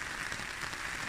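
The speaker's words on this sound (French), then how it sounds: "la pluie devient plus fine" Light spring rain falling steadily on a hiking bivouac, a soft, even hiss of fine drops with no voices, constant and fairly faint throughout.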